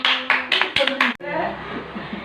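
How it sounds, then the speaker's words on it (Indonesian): A classroom bursts into a short round of applause for a classmate, several sharp claps close together over about a second before a brief chuckle and murmured voices follow. "Beli tepuk tangan buat teman kita ya."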